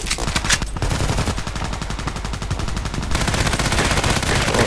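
Rapid automatic gunfire in the online shooter game Contract Wars, a dense, loud stream of evenly spaced shots that continues for the whole clip, with a short pause near the start.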